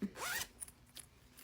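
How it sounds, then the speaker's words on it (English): A zipper pouch being zipped shut with one quick, close rasping pull, followed by a few faint small clicks and rustles. "when you zip it up"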